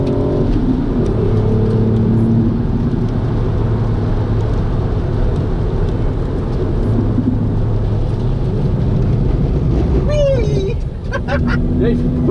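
A Mk8 Ford Fiesta ST engine drones steadily at high revs on a race track, with tonal tire squeal rising near the end as the car slides at opposite lock; loud and continuous.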